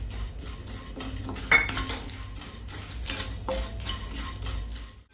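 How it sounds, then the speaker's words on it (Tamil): Peppercorns, coriander and cumin dry roast in a pan over a slow flame, a spoon scraping and clinking against the metal in irregular strokes, with a soft rattle of seeds shifting between sharper knocks. "இப்போ மிளகு, மல்லி ரெண்டுத்தையும் நம்ம ஸ்லோ ஃப்ளேமில் தான் வறுத்துட்ருக்கோம்."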